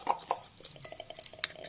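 A spoon clinks and scrapes against bowls while Lays chaat is moved into a new bowl, giving a close, busy run of quick metallic taps and scrapes with no talking.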